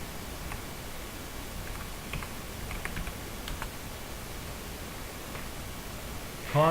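A few soft, scattered keystrokes on a computer keyboard as a short command shortcut is typed into CAD software, quiet and close over a steady background hiss, with no talking.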